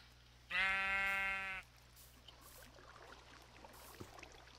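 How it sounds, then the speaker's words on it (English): A single sheep in the Minecraft video game bleats once, a loud, clear, harmonic-rich call lasting about a second over a quiet ambient background. "Oh, what is your problem, sheep?"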